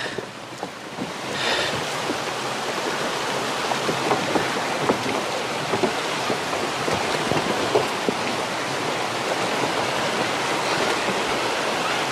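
Steady rushing water from a mountain creek flows continuously, a broad wash of noise like a stream running over rocks, fairly close and unbroken throughout.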